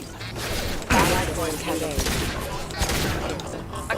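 Heavy pistol fire in the Mass Effect 2 video game, a dense, loud burst of shots and impacts layered over busy combat noise, with a sharp hit near the start of a steady din.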